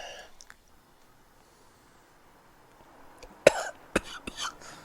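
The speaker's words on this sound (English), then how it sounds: "Every time I try one, I cough." A few sharp coughs in a row after a bite of peppery chocolate, close and loud after a quiet stretch, with faint voices at the start.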